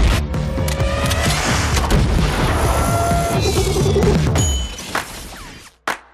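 An RPG rocket launches and explodes in the action film Red, a loud sustained roaring blast with crashing debris that dies away, then a sharp final impact.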